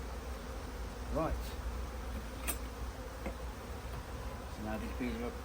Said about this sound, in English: Now these bees are a bit angry